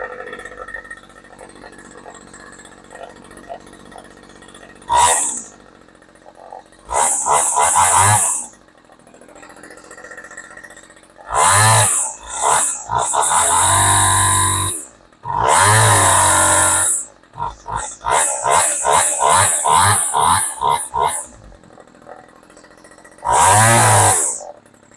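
A Homelite string trimmer engine runs at raised idle close by, with repeated sharp bursts of high revving between lower, steady idling stretches.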